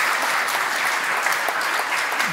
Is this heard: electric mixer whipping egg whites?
no